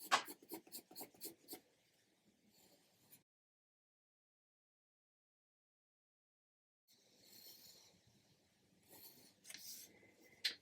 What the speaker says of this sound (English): And just watch the pencil strokes.